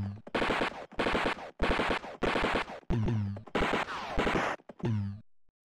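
Retro computer war game North & South: loud bursts of rapid synthesized gunfire, a string of separate volleys with brief gaps between them, no talk over it.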